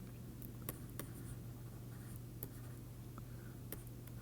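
Pen or chalk writing an equation by hand, faint scattered taps and short scratchy strokes over a quiet steady hum, no talking.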